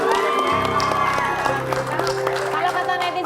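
Studio audience on an Indonesian TV talk show clapping in a steady burst of applause with some cheers, while voices talk over it.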